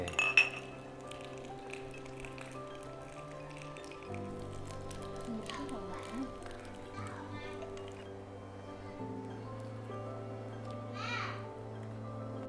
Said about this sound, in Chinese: 来干杯。